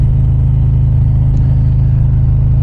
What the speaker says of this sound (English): Absolutely love how these Harleys ride in this nice cool temperatures and cool weather.